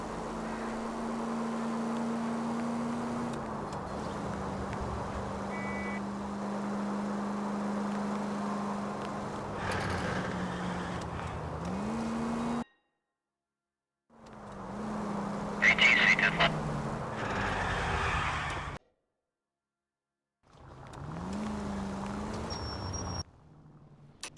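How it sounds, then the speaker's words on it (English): Engine drone of a car pulling out of a driveway in the video game L.A. Noire, a steady motor hum that shifts in pitch and breaks off into short silences, with game dialogue heard over it. "That's the car, Cole. Just pulling out of the drive."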